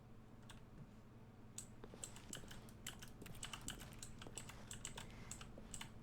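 Someone types on a computer keyboard in the video game The Stanley Parable, starting with a few scattered clicks, then quick irregular bursts of close, crisp keystrokes over a faint low hum.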